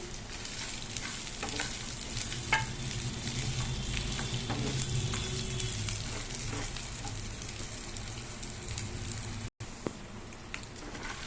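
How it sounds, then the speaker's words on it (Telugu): Grated coconut frying in a pan for Andhra-style kobbari pachadi, a steady close sizzle with scattered crackles and scraping stirs running throughout, with a brief dropout near the end. "కొబ్బరి వేస్తున్నామండి. మొత్తం వేపుతున్నామండి."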